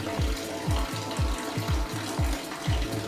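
Water running from a Gimili GM1043B kitchen faucet into the sink, a steady hiss with a repeating low thump or gurgle about every half second, close and fairly loud with no talking.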